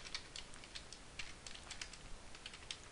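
Code is typed on a computer keyboard in quick, irregular bursts of light clicking keystrokes, close and quiet against a faint background hiss.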